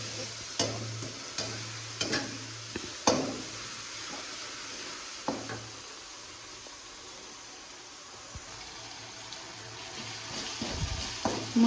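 Spice masala fries in a pan with a soft sizzle, broken by repeated scraping and clanking as a spoon stirs against the metal, close and intermittent with no talking.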